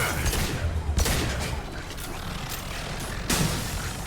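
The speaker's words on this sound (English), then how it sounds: "That's a sentry gun over there. Look at it go." A sentry gun in the video game Mass Effect 2 fires in rough bursts of rapid shots, with mechanical clatter and a few sharper blasts rising out of a dense, noisy battle din.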